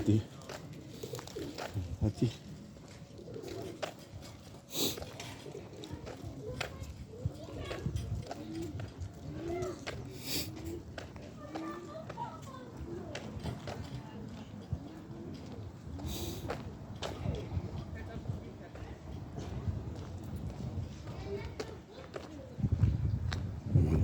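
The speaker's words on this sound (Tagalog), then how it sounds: "Kalapati. Kalapati." Pigeons coo softly and repeatedly outdoors, mixed with hoof-like clip-clop, scattered background voices and general street bustle.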